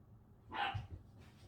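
A dog gives a single short bark close by, a brief burst standing out over a quiet indoor background, with a faint low rumble after it.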